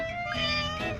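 A house cat gives one clear, close meow that rises and then falls, about a second long and alone without speech.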